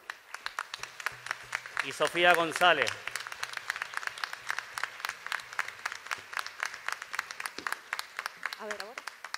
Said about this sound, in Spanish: Ese aplauso grande para Alfredo también de la Rosa